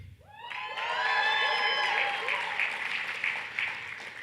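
A large crowd bursts into applause mixed with cheering and whoops, sustained and loud for several seconds.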